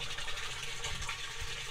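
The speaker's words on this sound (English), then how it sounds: "the control bucket is filling up, and it's getting all its water level" Water pours steadily into a bucket in a home-built ebb and flow hydroponic system for tomato plants, a continuous loud rushing and trickling wash that fills the whole stretch with no talk.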